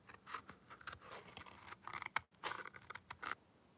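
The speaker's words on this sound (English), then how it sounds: "we're going to have to use a tiny scissors" Small scissors snip through paper in a quick series of close, crisp cuts with brief pauses between them, clear and alone, the snipping stopping near the end.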